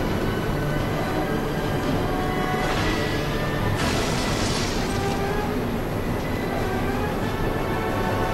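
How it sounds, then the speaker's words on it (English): A train from the video game Resident Evil Zero rumbles on at full speed without slowing, a dense, continuous roar of wheels and carriages with faint rattling, loud and unbroken throughout. "But the train does not seem to be slowing at all."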